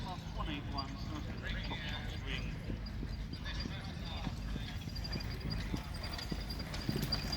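Hooves of a cob pulling a carriage clip-clop in a steady rhythm close by, with someone talking over them throughout.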